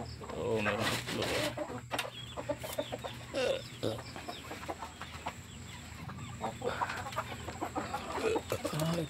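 A hen sitting on eggs clucks repeatedly in a farmyard, close and moderately loud, with other chicken calls around and someone talking over it at times.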